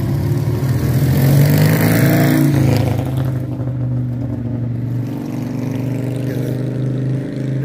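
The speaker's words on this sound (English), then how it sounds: "That was a beautiful scooter going by." A scooter engine revs loudly up close as it passes down the block, its drone peaking early and then easing into a steady, fading hum as it moves away.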